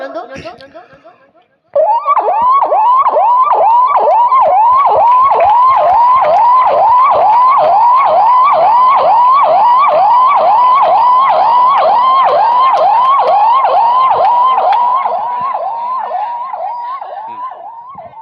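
A voice imitates a police siren, a loud rapid wailing whoop repeated in a steady rhythm for over ten seconds before fading slightly.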